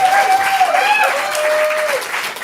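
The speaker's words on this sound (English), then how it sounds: "Give them a big round of applause" An audience at a stand-up comedy showcase claps steadily, while a voice talks over the applause throughout.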